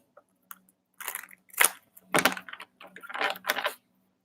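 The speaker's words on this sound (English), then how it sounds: "I'm going to shuffle these." Tarot cards shuffled by hand, giving a run of close, crisp riffling and snapping bursts in several short clusters over a few seconds, with no talking.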